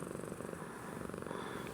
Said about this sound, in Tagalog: Actually, Theo is a Siamese cat.